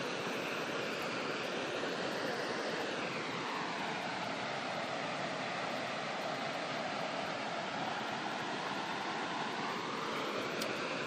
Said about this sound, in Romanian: Am ajuns și la cascada Urlătoarea. După cum se vede, are un zgomot destul de mare.